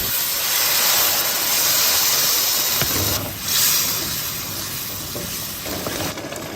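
Minced pork being stir-fried with soybean paste, soy sauces, spices and salt, then starch water added: a loud, steady close hiss and sizzle that drops briefly as stirring shifts, then carries on with scraping, no talking.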